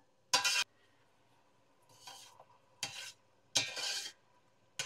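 A spoon stirs coconut milk and sugar in a wide cooking pot, giving a few separate close scraping strokes with quiet pauses between them and no talking.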